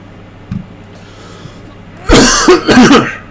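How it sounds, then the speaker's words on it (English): Two harsh, wet coughs burst out close by, one right after the other, following a quiet stretch with a faint thump. "God, that's a gross cough."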